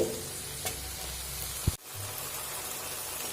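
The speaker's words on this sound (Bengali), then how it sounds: "আবারও মিডিয়াম ফ্লেম করে দু থেকে তিন মিনিট একটু কষিয়ে নেব" Onion, tomato and chili fry in a pan over a medium flame, a steady close sizzle with a brief scrape and knock of a spatula midway, no voices.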